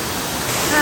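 Close, steady rush of a waterfall on a hiking trail in Japan, a broad continuous roar that grows slightly louder across the short moment, with no voices over it.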